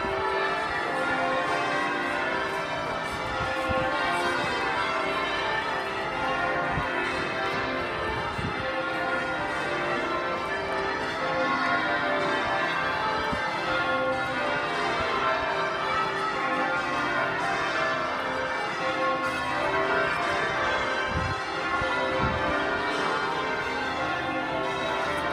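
Church bells of St Mary-le-Bow ring continuously in a dense, layered peal, steady and moderately loud throughout with no talk.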